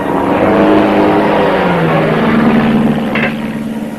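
A plane's motor runs rough and uneven in a 1937 Hollywood western, a loud droning propeller engine that wavers and fades slightly toward the end.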